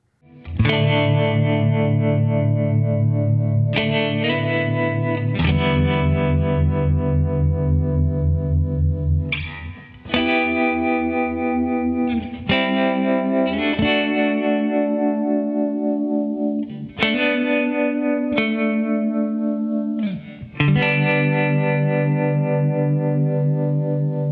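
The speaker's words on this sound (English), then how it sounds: "the Har mode is a harmonic tremolo" A guitar runs through a pedal in harmonic tremolo mode with reverb, its sustained chords pulsing and washing out, loud and alone with no talk.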